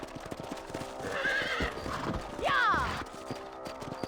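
A frightened horse in Red Dead Redemption Remastered whinnies twice, the second cry louder, over steady hoof clip-clops and creaking tack, with some game dialogue underneath.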